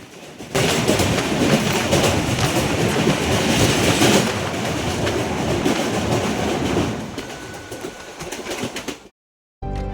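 The Haldibari Express rumbles loudly over a bridge across the Brahmani river, a dense roar with rhythmic rail clatter that eases off near the end, then cuts to brief silence.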